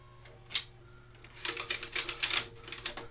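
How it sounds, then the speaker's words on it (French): The CD drive of an HP ProDesk Pentium G desktop computer is operated, giving a sharp click and then a quick run of faint mechanical ticks and whirring bursts, close and alone. "Si j'appuie sur le lecteur CD, vous allez l'entendre."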